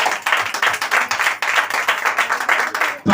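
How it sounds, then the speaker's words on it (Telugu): A church congregation claps together at a sermon, a dense burst of applause with fast, rhythmic hand claps sustained for about three seconds, loud and close, ending abruptly. "చప్పట్లు కొట్టండి ఇప్పుడు అందరూ కూడా"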